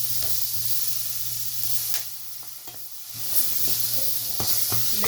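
Tomato, green chili and mixed vegetables fry in a pan for a vegetable dish, giving a steady close sizzle broken by scattered stirring clicks and scrapes, with no talking.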